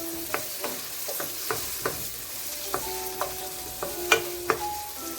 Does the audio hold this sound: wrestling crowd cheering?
no